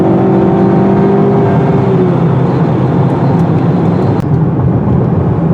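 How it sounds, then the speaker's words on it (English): A 2018 Honda Accord Touring engine pulls hard through the revs as the car accelerates on an open road, a loud, steady drone with a rising tone from inside the cabin, no voices. "This engine loves to rev at high RPM."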